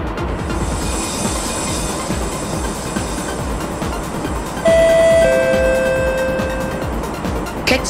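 A train runs in the OpenBVE simulator on the Habourvale Line, with a steady rolling rumble and wheel noise throughout. Sharp squealing tones rise near the end, and no one speaks.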